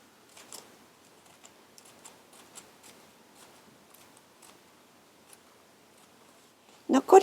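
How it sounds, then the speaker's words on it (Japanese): Scissors snip a row of slits into folded paper, each cut ending at the fold line, as a series of faint, light clicks spaced irregularly. A brief louder burst follows at the end. "ハサミの先がこの折り線のところにちょうど当たるようにして切る"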